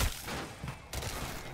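Shots from a mangler gun in a video game, a sharp burst at the start and another impact near the middle, loud and close with no voices.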